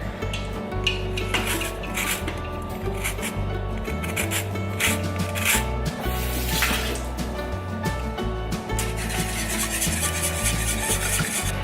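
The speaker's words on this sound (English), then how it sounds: "And then we're gonna add the zest of 1 lemon." Lemon zest being rubbed off on a grater for a healthy breakfast bake, a steady scratchy rasping that goes on without pause over a low hum, close and fairly quiet.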